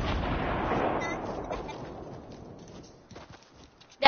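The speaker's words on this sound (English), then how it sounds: "That one sniper bullet helped a lot." A sniper rifle fires in the Fortnite video game. One loud, booming shot opens and then decays into a long, fading echo, followed by faint scattered clicks and a sharp transient at the very end.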